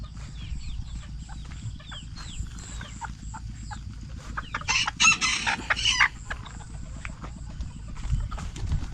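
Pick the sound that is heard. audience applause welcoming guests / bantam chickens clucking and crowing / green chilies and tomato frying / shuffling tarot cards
bantam chickens clucking and crowing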